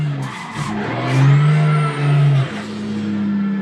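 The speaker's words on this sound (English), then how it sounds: "that is drifting on the sim" Car engine roaring and tires squealing in a racing simulator game during a drift. The sound is loud and continuous, with a sustained high screech that rises and falls as the slide goes on.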